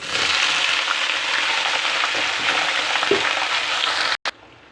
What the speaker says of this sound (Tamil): நல்லா பொறிஞ்சதும் கட் பண்ணி வச்சுருக்கேன் வாழைக்காவை சேர்த்துக்கலாம்